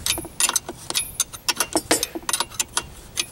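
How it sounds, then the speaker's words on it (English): Strut nut being tightened during a strut swap on a 2001-2005 Honda Civic, a run of short metallic clicks and ratcheting bursts at close range, irregular in rhythm, with no talking. "Then you just tighten it down all the way till it bottoms out."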